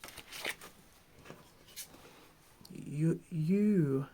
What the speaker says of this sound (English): Last shuffle for pile 1.